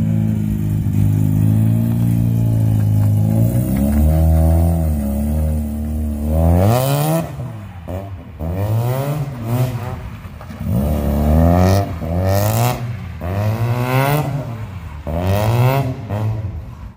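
A Mazda RX7 FC drifts across a wet parking lot, its rotary engine revving up and down in repeated rising and falling surges, loud and close throughout.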